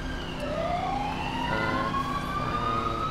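A police siren in the GTA 5 video game wails steadily under a game scene, its rising tone sweeping continuously and fairly loud over a constant background of engine and street noise.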